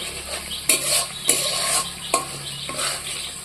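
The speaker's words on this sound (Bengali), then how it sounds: "এবার আমি ইঁচড়গুলো দিয়ে দিচ্ছি" Raw jackfruit pieces frying in spiced oil in a pan, with a steady loud sizzle broken by several sharp scrapes and clanks of a spoon stirring against the metal, close up and with no voices.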